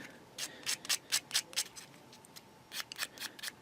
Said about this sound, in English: Quick tickle with a sanding stick.